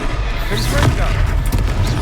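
In the Hogwarts Legacy video game, a Confringo spell explodes in a booming blast, set among swirling magical combat effects and other impacts, loud and close, with a voice speaking over the action.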